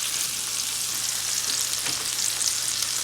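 Red onions and bell peppers fry in a pan with a steady, even hiss and sizzle, close and continuous with no talking, for a cabbage and saltfish dish.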